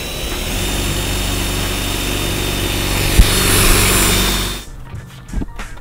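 A power drill runs in a steady, close, high whine while drilling holes in the body of a Nissan 350Z for a rear duck-tail spoiler. It stops after about four and a half seconds, followed by a few light knocks.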